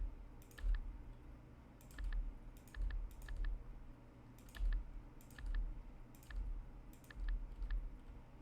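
Typing on a computer keyboard while solving a crossword: quiet, close bursts of key clicks in short clusters separated by pauses, with a faint background hum.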